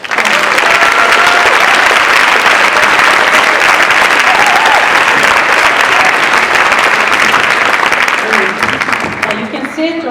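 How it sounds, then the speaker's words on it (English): Loud, sustained applause from a sizable crowd at a university dialogue event, dense continuous clapping that carries on steadily and starts to thin at the very end. "I would like to give a warm applause"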